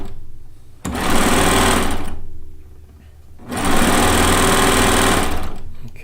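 A sewing machine chain-piecing log cabin quilt blocks runs in two loud, steady bursts, the first about a second long and the second about two and a half seconds, separated by a brief quieter pause.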